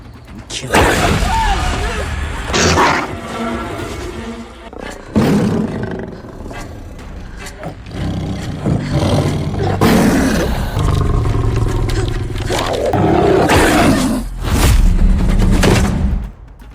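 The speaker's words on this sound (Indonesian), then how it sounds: "singa tiba-tiba menyerang Paka dari belakang" A lion attacking from behind in the film Prey (2022) lets out loud, drawn-out roars and snarls in several heavy bursts, with deep booming impacts between them.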